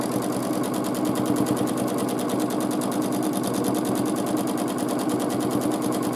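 A sewing machine free-motion quilts a large quilt, running in a steady, fast, even stitching chatter that continues without a break at close range.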